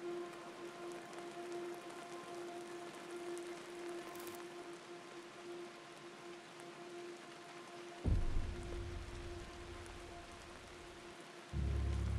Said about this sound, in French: un doux bruit de pluie, accompagné d'éclairs lointains